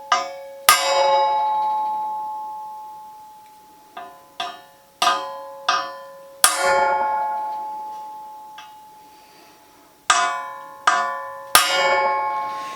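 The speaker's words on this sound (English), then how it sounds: "my 9-inch stand makes a heck of a dinner bell" A punch hammered against a 9-inch steel engine stand rings out like a bell, about ten sharp metallic strikes at irregular intervals, each leaving a sustained bright tone that slowly decays, loud and close with no talking.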